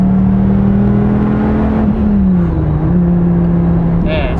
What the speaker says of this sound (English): That motor is just something else. It's so unique, so loud.